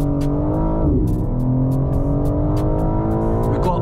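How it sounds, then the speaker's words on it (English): A car engine accelerates hard at full throttle, loud and close from inside the cabin, its rising pitch broken by brief dips at quick gear shifts. "Flatten the throttle."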